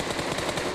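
Rapid automatic gunfire in the mobile battle royale game PUBG Mobile on the desert map Miramar, a dense, continuous burst of shots at steady loudness with no talk over it.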